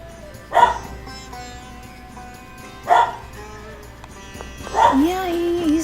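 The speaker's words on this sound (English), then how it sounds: "the dogs are barking" Dogs bark in a few separate bursts, somewhat distant, with quiet gaps between and a higher whining yelp at the end.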